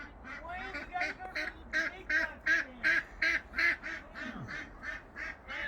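Several ducks quack loudly and close in a fast, rhythmic run of repeated calls, with a few lower honks mixed in.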